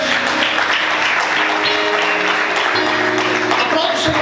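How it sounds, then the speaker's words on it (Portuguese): A church congregation applauds during an evening worship service, with loud sustained clapping blended with music and voices. "Você pode aplaudir o Senhor nessa noite?"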